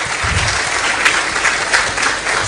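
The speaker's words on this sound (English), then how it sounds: "this round of applause will give you your healing that you need for the morning" An audience at an ambassadors conference applauds, a dense, steady clapping from many hands filling the room, loud and continuous with a few louder claps standing out.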